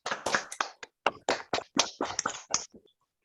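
Participants in an online Zoom class clap in welcome, a sparse, uneven run of individual hand claps, close and distinct with short gaps, trailing off to silence.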